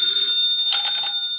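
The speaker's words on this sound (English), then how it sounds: "the ringing of that phone bell means mystery" An old-fashioned telephone bell rings with a steady metallic trill in a vintage radio mystery drama, clear and alone, swelling briefly in the middle.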